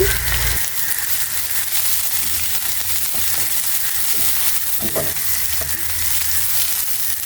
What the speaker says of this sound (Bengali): আমি এখানে রসুন কিছু দিয়ে দিচ্ছি দুইটা দেশি রসুন তো আর একটু পেঁয়াজ দিয়ে দিচ্ছি